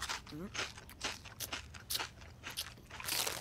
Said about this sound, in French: Ça fait un boucan d'enfer quand je mâche mes chips.